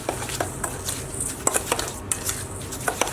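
Spoon scraping and clinking against a bowl while breadcrumbs and full cream milk are mixed, a quiet run of irregular taps and scrapes up close.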